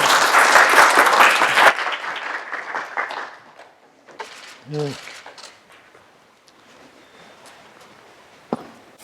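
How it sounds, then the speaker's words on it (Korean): Loud applause welcomes a lecture speaker at a talk on economic democratization, dense clapping that drops off after a couple of seconds and fades into scattered claps and room noise. "큰 박수로 맞아주시기 바랍니다."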